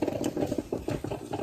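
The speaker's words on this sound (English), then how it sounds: "Sorry for that noise. My coffee maker's going off." A coffee maker in a home sputters and gurgles in quick, irregular bursts, a close, moderately loud bubbling patter with no one talking over it.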